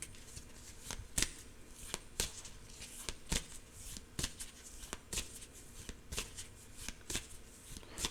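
Oracle cards shuffled by hand in a steady run of crisp riffling snaps, roughly one burst per second, close and fairly quiet with no talking over them.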